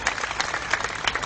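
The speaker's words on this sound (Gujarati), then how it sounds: "તાળીઓથી આપણે વધાવી લઈએ" Crowd applause at a political protest rally in Gandhinagar, a dense, steady wash of many hands clapping without pause for a moment.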